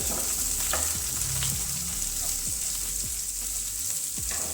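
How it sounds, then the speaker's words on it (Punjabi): Onions with green chillies, ginger and garlic fry in oil for shahi paneer, a constant bright sizzle with a spoon scraping and tapping the pan in a loose rhythm, close and loud. "ਪਿਆਜ਼ਾਂ ਨੂੰ ਆਪਾਂ ਹਿਲਾ ਦਾਂਗੇ ਤੇ ਪਿਆਜ਼ਾਂ ਦੇ ਸਾਰੇ ਲੱਛੇ ਫੁੱਲ ਜਾਣਗੇ"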